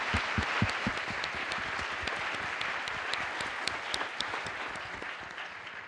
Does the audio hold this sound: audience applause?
yes